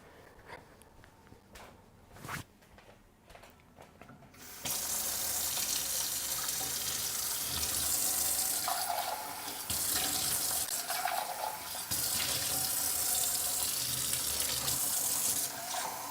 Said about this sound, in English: Let's refill the water a little bit.